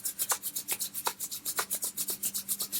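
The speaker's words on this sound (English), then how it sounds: "So we're rubbing the palms together," Palms rubbed briskly together to warm the hands during face yoga, a steady rhythmic swishing at close range, fairly quiet and with no talk over it.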